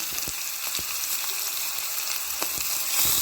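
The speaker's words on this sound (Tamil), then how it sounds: "கொஞ்சம் போது எண்ணெய் ஊற்றி அதில் கடுகு போட்டு கூட கொஞ்சம் போது வெங்காயம்" Mustard seeds and onion sizzle steadily in hot oil, a continuous close frying hiss with a few sharp pops and crackles scattered through.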